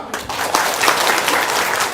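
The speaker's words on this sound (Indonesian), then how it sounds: "Coba tepuk tangan dulu dong." An audience claps together in a steady, dense burst of applause at a spoken talk, the clapping close and continuous for a couple of seconds.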